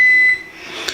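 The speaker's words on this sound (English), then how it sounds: "Alright, so our timer's going off." A kitchen timer goes off while Mi'kmaq bannock bakes. It gives one clear, high electronic beep that holds briefly and then fades into quiet room tone.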